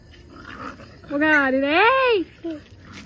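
Dogs fight and bite during a festival gathering, with a loud, drawn-out whining yelp in the middle over a rough background of scuffling noise, followed by a short cry.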